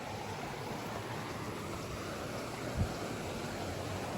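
River Borosa flowing beside a forest trail, a faint steady wash of rushing water with one soft thump partway through.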